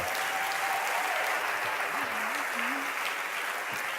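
A church congregation applauds in a steady, dense wash of clapping that stays even throughout, with a voice briefly heard beneath it.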